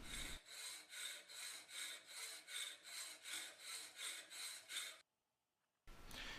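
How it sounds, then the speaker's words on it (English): A hacksaw cuts the threaded end of a magazine catch held in a bench vise, making a steady run of about a dozen rhythmic back-and-forth strokes. It stops briefly into silence, then a short burst of rasping starts again. "You can use a vise clamp and a hacksaw to do this."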